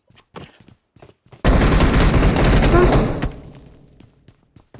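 Rapid automatic gunfire bursts out loudly in a video game match, a dense burst of roughly two seconds that trails off, with brief clicks and game sounds around it.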